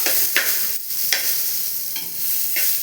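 Small shallots frying in a pan as a spatula stirs them, a loud continuous sizzle broken by several sharp scrapes and knocks, close and alone.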